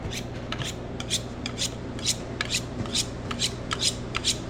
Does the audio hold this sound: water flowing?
no